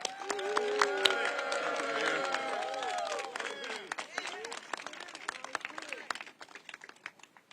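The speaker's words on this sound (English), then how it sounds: "Let's give a big round of applause to our Grand Marshal, but also America's General, General Ellis." Outdoor crowd at a Baltimore Veterans Day parade applauding and cheering for the Grand Marshal, a general; overlapping voices and shouts fill the first half, then scattered claps and crisp individual hand strikes trail off.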